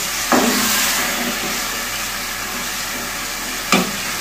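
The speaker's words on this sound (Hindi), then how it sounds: "अब मैं इसमें डालती हूँ चने। मसाला बिल्कुल ही रेडी हो गया है" Black chickpeas go into a frying masala for a chana dish, giving a loud, continuous sizzle and hiss with a couple of sharp spoon knocks against the pan.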